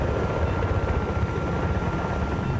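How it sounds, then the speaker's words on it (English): An enemy helicopter in Battlefield 3 on the Caspian Border map, a steady rumbling rotor drone with a faint chop, continuous and moderately loud, with no talk. "Enemy helicopter spotted."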